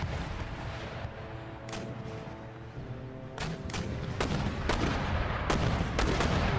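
Mortar battery firing in the Empire: Total War battle game, a run of deep booming shots spaced irregularly over a rumbling battlefield din, growing louder and busier toward the end.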